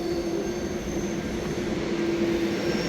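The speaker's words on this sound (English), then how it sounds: "Train is still going," Freight train passing along the Fraser Canyon in British Columbia, a steady distant rumble with a sustained metallic whine running through it, with no voices.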